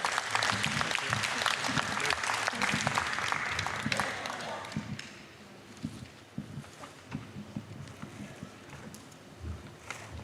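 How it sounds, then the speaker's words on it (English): An audience applauds presenters at the close of a talk on a tactile profile for acquired deafblindness, with steady clapping that fills the room for about five seconds, then thins out into scattered claps and faint murmuring. "please give them a big applause"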